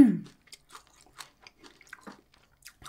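Crunchy celery dipped in mayonnaise being chewed close to the mic, with a sequence of soft, wet, crisp bites and chews spaced over a few seconds and no talking.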